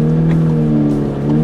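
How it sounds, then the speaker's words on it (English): A Stage 3 VW Polo GTI with an IS20 turbo and aftermarket exhaust, heard from inside the cabin with the seats removed, giving a steady, loud droning engine note that dips briefly before rising again. "It's a lot more. Aggressive sounding because obviously the seats aren't in"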